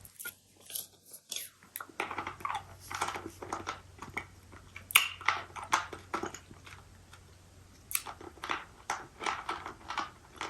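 Crunching and chewing of a Werther's Original caramel apple filled hard candy, close and crisp, with irregular bursts of biting and crackling that repeat through the stretch.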